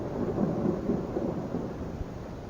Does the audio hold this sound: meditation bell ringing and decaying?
no